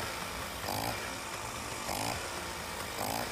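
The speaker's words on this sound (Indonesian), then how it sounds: "suaranya sudah langsam ya" A restored 1960 Vespa VNA1T with a 150cc engine idles steadily, a continuous buzzing two-stroke drone with a soft periodic swell about once a second, heard close up with no voices.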